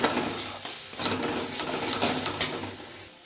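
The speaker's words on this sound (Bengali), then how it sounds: "মশলাটাকে খুব ভালো করে আমি কষিয়ে নেবো" Masala spice paste being fried and stirred in a pan before cabbage goes in, with steady sizzling broken by scraping spoon strokes and a few sharp clinks against the pan, close and fairly loud.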